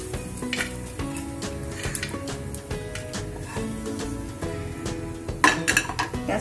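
Grated coconut roasts in oil in a pan, a steady close sizzle broken by scraping stirs and light clinks of a utensil against the metal, with a busier flurry of stirring near the end.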